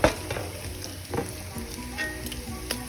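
Bacon and garlic fry in a pan with a steady, close sizzle, broken by soft crackles and light pops and occasional clinks of stirring.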